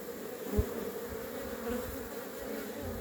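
Honeybees drone in a steady, low buzzing swarm at a hive entrance fitted with a pollen trap, with one brief louder buzz as a bee passes close to the microphone.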